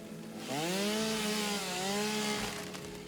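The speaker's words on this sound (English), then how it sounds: "Can you guys hear me chainsawing away over here?" A chainsaw in the video game Satisfactory revs and cuts steadily for about two and a half seconds, a loud buzzing drone that dips briefly midway, heard alone without talk.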